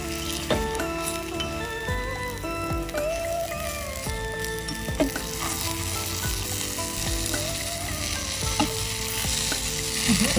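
Fish, likely climbing perch, sizzles and spits in a hot pan during home cooking, a steady dense crackle with scattered sharper pops and light utensil clinks, close and continuous with no talk.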